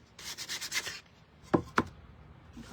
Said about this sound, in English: Now we're just going to just kind of sand the edges of both of them, actually.